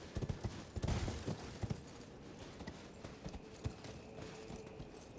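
Torrent the horse trotting in Elden Ring, hooves clip-clopping in a quick steady rhythm over a constant ambient wash, loudest at the start then continuing more softly.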